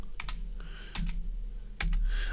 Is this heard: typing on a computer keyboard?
yes